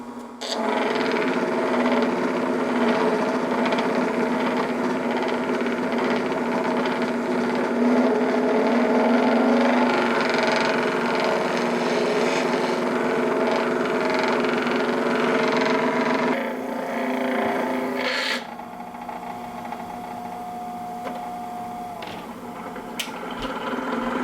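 A thunder egg stone is pressed evenly against a spinning polishing pad, making a steady motor whir with a grinding drone. It shifts abruptly about two-thirds through and carries on slightly quieter.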